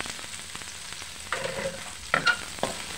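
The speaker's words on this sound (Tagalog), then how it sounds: "ilagay natin ang bawang. Ilagay natin sibuyas." Garlic and onion dropped into hot oil and sautéed for a mixed vegetable stir-fry, giving a close, steady sizzle with sharp bursts of stirring and pan scrapes.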